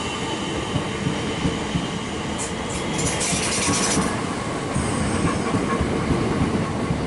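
An electric third-rail Southeastern train, about 10 cars long, rumbles steadily past and pulls away from a station in Greenwich, with a continuous broadband roar, faint wheel squeal and rhythmic clatter over the rails.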